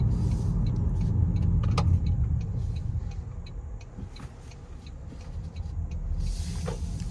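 A 2025 Toyota Camry SE driving, heard from inside the cabin as a steady low road rumble and engine hum with light hiss and a few faint clicks, no talking.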